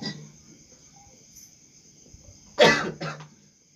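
Two sharp coughs close together near the end, loud and harsh against a quiet background with a faint steady electronic whine.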